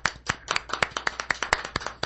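A small studio group on a comedy radio show claps, a sparse run of distinct, fairly close hand claps in an uneven rhythm, with no talking.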